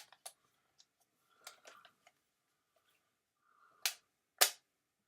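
A Neewer BG-1E battery grip slides into a Canon EOS 7D camera and clicks shut. Small scattered plastic taps lead up to two sharp, close clicks near the end, with quiet between them.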